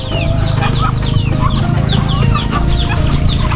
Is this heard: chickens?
yes